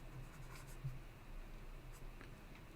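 Faint scratching of an equation being written out by hand while working through a series and parallel resistor network analysis, soft and intermittent.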